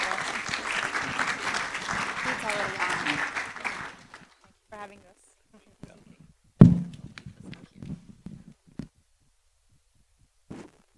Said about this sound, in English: let's give John, Mandana, and Jason a big round of applause